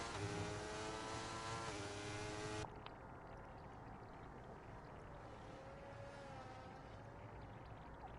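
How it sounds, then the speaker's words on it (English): Race cars on a track in Brazil, a loud close engine whine that cuts off abruptly, then a steady background drone of other cars circulating at a distance, with no talking. "There's a lot of cars on track right now."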